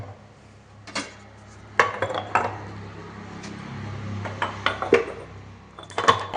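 Clattering clay pots knocked and set down mouth-down into a water pot for boiling, scattered clinks and thuds over a low steady hum.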